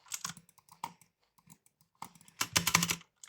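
Someone taps on a 60% mechanical keyboard at close range, first in scattered individual keystrokes, then in a quick dense burst of clacking typing.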